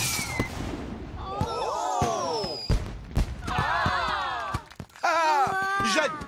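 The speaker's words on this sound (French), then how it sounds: "Et maintenant, place au feu d'artifice géant." Giant fireworks in a French cartoon: rising whistling rockets and bursts with crackling pops, loud and close, several launches over a few seconds.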